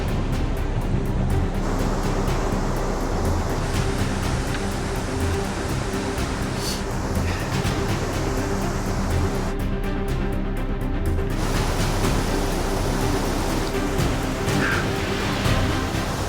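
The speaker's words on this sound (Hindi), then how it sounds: "सामने ग्लेशियरों से पिघल के आ रही नदी बहुत ही तेज़ बहाव के साथ आगे को बढ़ रही है" A fast-flowing river of glacier meltwater in the high Himalayan mountains near Parvati base camp, giving a steady, loud broadband rush that holds constant throughout, with wind buffeting over it and no voices.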